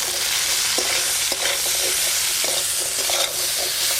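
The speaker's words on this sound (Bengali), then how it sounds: "আলু আর কুমড়ো একটু ভালো করে ভাজা ভাজা করে নিয়েছি" Potato and pumpkin pieces with turmeric and salt fry in a hot pan with a loud, steady sizzle close up, punctuated by repeated light scraping taps as they are stirred.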